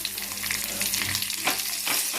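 Curry leaves with dried red chili, garlic and onion sizzling in hot tempering oil for a tomato chutney, a loud close crackling hiss with bursts of spattering, continuous and without voices.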